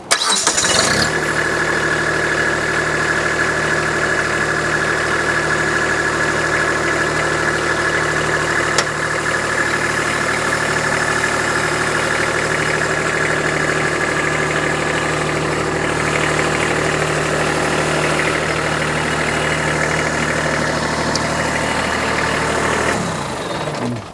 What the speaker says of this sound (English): So now he's going to fire up the tractor.